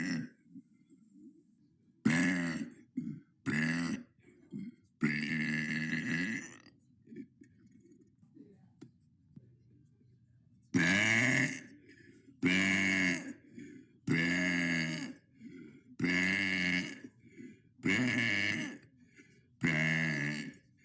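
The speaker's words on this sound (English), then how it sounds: "That was day 72 of burping for 100 days." A single person lets out a series of loud, drawn-out burps one after another, some short and some long and croaking, separated by quiet pauses, with no other voices.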